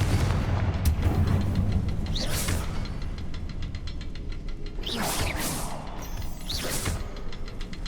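Fire spell blasts from the Hogwarts Legacy game, clearing spider webs: a booming burst near the start and two more around five and six and a half seconds, each a sharp whooshing crack over steady background rumble.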